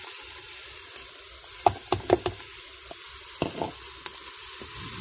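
Courgette pieces sauté with onions in a Cookeo multicooker, giving a low steady sizzling hiss broken by a few sharp utensil knocks and scrapes against the pot, fairly quiet.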